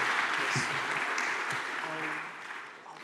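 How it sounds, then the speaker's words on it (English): Conference audience applauding a lightning-talk speaker at EuroPython 2024, a steady dense wash of clapping from a large room that tapers slightly toward the end, with a faint voice briefly underneath. "give him a big round of applause"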